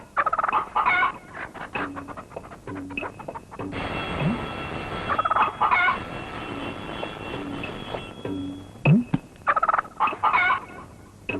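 A chicken clucks in repeated short bursts, fairly close and loud, with steady background noise between the calls.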